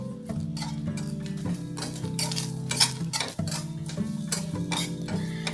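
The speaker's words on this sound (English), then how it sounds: "you can also add 7 to 8 garlic cloves and continue sauteing" Dal, curry leaves and garlic cloves sauteing in a pan, with a spatula scraping and clinking steadily against the metal under loud background music.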